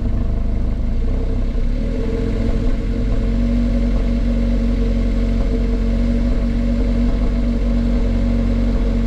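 A Volkswagen Polo engine runs steadily at about 1,000 rpm, a continuous low rumble with faint clatter, close and even throughout, with no voices.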